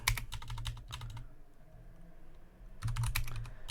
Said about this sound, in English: now type command system control